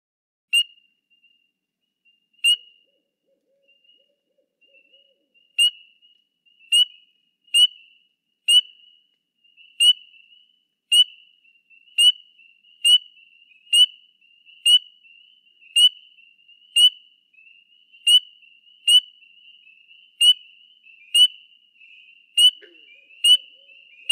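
Green frogs at night give sharp, clunking single calls, first sparse and then repeated at a steady beat of about one per second, loud and close against a quiet background.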